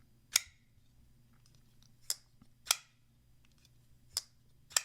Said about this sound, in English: It's a gentle thwack, and a very subdued click when you just close the blade.